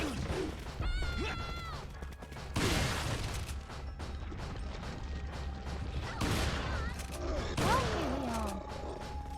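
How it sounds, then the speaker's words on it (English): Shotgun blasts ring out in a video game, a few sharp loud bursts spread across the stretch amid clanking mechanisms and game effects over a steady low hum. "Maybe shotgun these guys."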